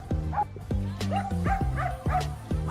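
A small dog barks at passing cars near a street crossing, giving a rapid run of sharp yipping barks and whimpers at close range, with faint background noise.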